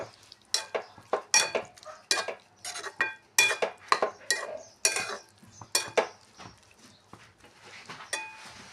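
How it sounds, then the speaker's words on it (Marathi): Aloo gobi with finely chopped coriander and salt stirred in a pan, a spoon repeatedly scraping and clinking against the metal in a steady, close rhythm of sharp knocks over a faint sizzle. "त्याचबरोबर बारीक चिरलेली कोथिंबीर, मीठ आणि कोथिंबीर यामध्ये छानपैकी मिक्स करून घेऊ"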